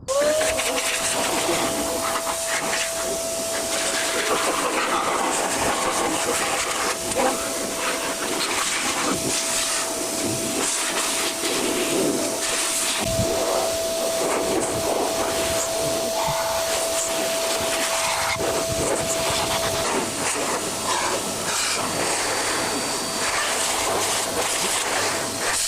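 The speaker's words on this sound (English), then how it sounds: "So now that we've done the bike with the dryer" A blower dryer pushes a loud, continuous whooshing roar of air across a motorcycle after washing, with a steady whining tone riding on top for most of the stretch before fading near the end; nobody speaks.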